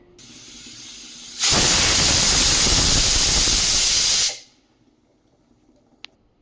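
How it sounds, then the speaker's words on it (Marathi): A pressure cooker on medium heat, holding raw mangoes, lets out one loud sustained hiss of steam for about three seconds, then quiet with a single sharp click afterward. "अशा पद्धतीने कुकरची एक शिट्टी आपण काढून घेतलेली आहे तर प्रेशर देखील व्यवस्थित रिलीज झालेला आहे"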